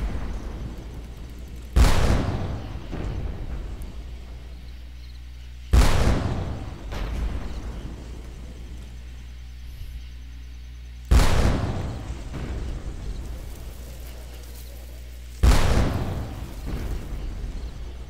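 Four booming cannon shots from the video game Darkest of Days, a Little Big Horn rescue level, each a sharp loud blast followed by a decaying rumble, spaced a few seconds apart.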